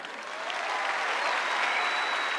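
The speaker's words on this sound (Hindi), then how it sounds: "सिर्फ मिडिल क्लास लोग ही ताली बजा रहे हैं" Steady applause from an audience at a Forever Living success day event in Delhi, dense clapping sustained throughout at an even level, with no one speaking over it.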